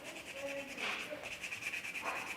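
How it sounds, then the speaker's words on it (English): Wet sanding a quarter-scale Spiderman figure with soapy, water-lubricated sandpaper: soft, close rubbing strokes with a gritty hiss, quiet and continuous over a couple of seconds. "we're going to start sanding these down again"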